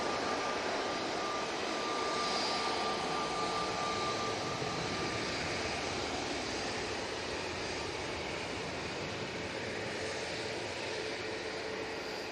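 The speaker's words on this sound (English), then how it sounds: "That's EK21 coming in with a flight time of 6 hours and 45 minutes to get here from Dubai." An Emirates jet airliner, flight EK21 from Dubai, arrives at Manchester Airport, its engines a steady broad distant roar that swells slightly and holds for the whole stretch.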